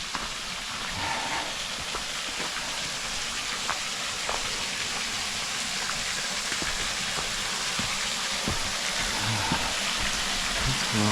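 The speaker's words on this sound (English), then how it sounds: "I hear water." Water flows in the woods of Pickle Springs Natural Area in southeast Missouri as a steady hiss with scattered soft splashes and taps, moderately distant and continuous.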